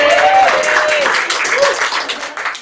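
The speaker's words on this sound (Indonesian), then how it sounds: "Boleh minta tepuk tangan kawan-kawan." An audience claps steadily at the start of a stand-up set, a dense crowd applause with a whistle or cheer riding briefly over it before the clapping thins slightly near the end.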